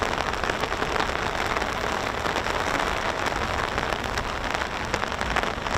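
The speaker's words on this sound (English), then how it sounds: "Streaming in the rain, streaming in the rain." Steady, dense rain patters on an umbrella outdoors near an air base, a continuous close hiss with no voices.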